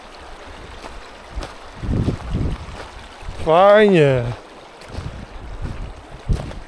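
Steady rushing of flowing river water fills the background while a person speaks briefly, with some wind buffeting the microphone.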